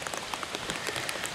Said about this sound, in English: All this rain has made this brook run again.